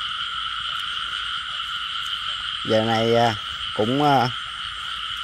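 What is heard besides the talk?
frogs croaking in a rice field after heavy rain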